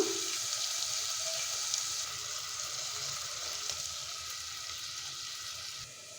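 Tomatoes and onions fry in a pan for a home curry, giving a constant moderate sizzle and hiss that stays steady with no voices.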